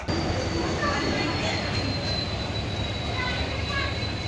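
A train at New Alipurduar railway station gives a loud, steady rumble with a faint high squeal over it, continuous through the clip.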